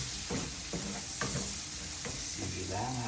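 Pancit bihon rice noodles being stirred and tossed in a sizzling pan, with repeated scraping strokes over a constant frying hiss, close up.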